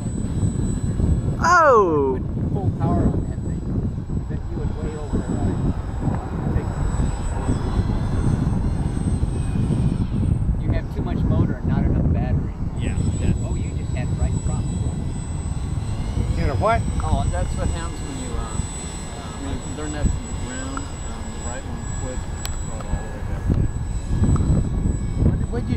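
An electric amphibious Twinstar II twin-motor RC model plane whines steadily in flight during its maiden flight, its motor tone rising and falling as it manoeuvres, with a person talking and exclaiming over it.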